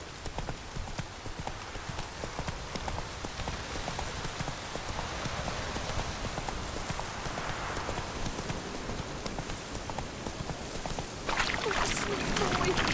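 Horse hooves clip-clop at a steady trot through the whole stretch in The Witcher 3, moderately close over a constant rain-like hiss, with a broadband gust swelling near the end.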